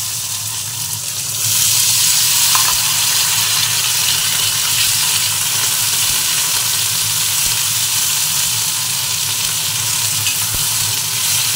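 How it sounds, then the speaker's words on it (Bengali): Panch phoron spices drop into hot oil in a heated wok and start a strong, continuous sizzle that stays loud and close for the rest of the stretch, with no voice over it. "এর মধ্যে আমি 5 ফোড়ন সম্বারা দিব। দিয়ে দিলাম।"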